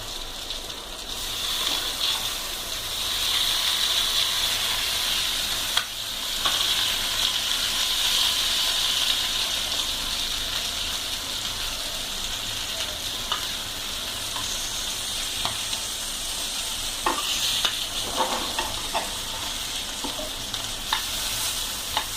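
Sardines frying in a pan keep up a steady crackling sizzle, with scraping and clatter as the fish are flipped to the other side, later bursts of sharper spitting, no voices.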